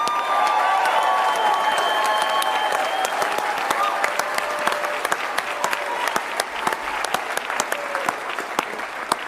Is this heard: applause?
yes